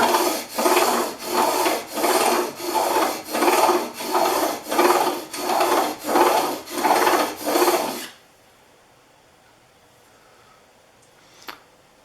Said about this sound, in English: So what I'm going to do is do some more strokes, putting more pressure on that side